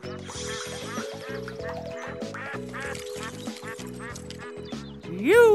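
Cartoon ducks quack over and over in short repeated calls while being fed green peas, set against a steady musical backing with a rising tone at the end.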